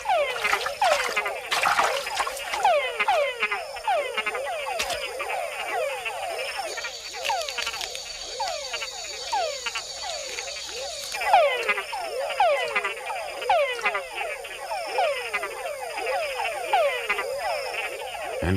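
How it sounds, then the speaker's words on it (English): Male frogs call at night in Panama, a dense chorus of rapid chirping, chucking calls repeating and overlapping throughout, steady and fairly loud, with a faint trickle of water beneath and no talk. "male frogs have to think twice about sounding off, because females aren't the only ones out there listening to the chucks"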